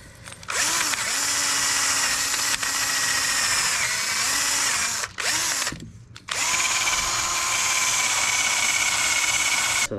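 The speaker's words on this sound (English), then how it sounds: "So we'll just clean this up a little bit. Use like a wire brush or something." Wire brush on a power tool scrubbing rust off a Nissan Pathfinder wheel hub, a loud, close, whining buzz that runs steadily with two brief pauses before starting up again.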